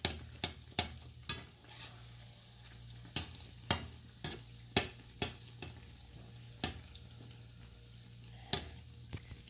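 Chicken bread pocket patties frying in fresh oil give a soft steady sizzle, broken by a series of sharp, irregular pops and crackles nearby.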